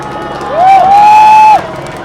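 Crowd cheering at the finish of the 2019 Wuhan Marathon, a loud swell of whoops and shouting that rises suddenly, holds for about a second, then drops back to a steady background roar.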